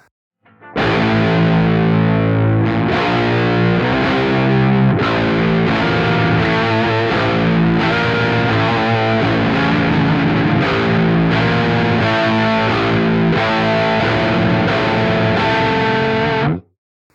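A heavily distorted electric guitar through an Axe-Fx III 4x10 cabinet simulation chugs and rings steadily for about sixteen seconds, thick and saturated doom-metal tone, then cuts off abruptly.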